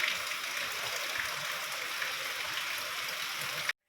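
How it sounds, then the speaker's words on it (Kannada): Light rain falls in a steady, even patter, a close and continuous hiss of drops with no talk, cutting off abruptly at the end. "ಅಷ್ಟರಲ್ಲಿ ಸ್ವಲ್ಪ ಮಳೆ ಬರೋದಕ್ಕೆ ಸ್ಟಾರ್ಟ್ ಆಯಿತು"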